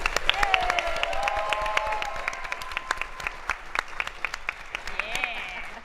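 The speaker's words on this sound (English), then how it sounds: "A big round of applause to our amazing special guests, Bonnie and Fabienne." Lively applause from an audience at a live tabletop RPG show at Gen Con 2019 carries on throughout, with cheerful voices talking and laughing over the clapping.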